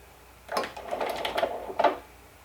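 A sewing machine runs a skirt seam in two short bursts of rapid, even stitching, close and moderately loud, with quiet pauses around them.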